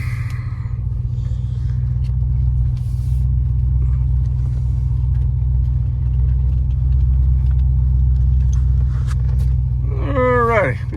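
A 1980 Porsche 928 with manual steering on the move, its engine a steady low rumble that fills the cabin throughout. There is no speech, and a brief rising whine or squeal cuts in near the end.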